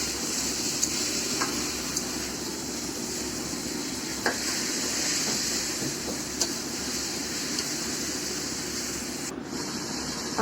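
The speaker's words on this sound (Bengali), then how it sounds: "এই দেখো মাংস কষাচ্ছি" Meat braises in a hot wok with ground spices as it is stirred for kosha, giving a continuous dense sizzle with occasional light scrapes and taps of the utensil, close and steady throughout.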